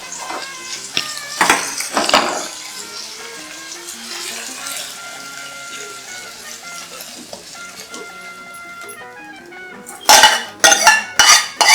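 A metal spoon clinks against a pot as a sautéed mix is stirred into sizzling, bubbling boiling dal, ending with a burst of loud clanks.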